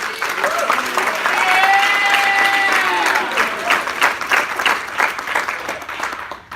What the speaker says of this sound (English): I will give Gigi a round of applause.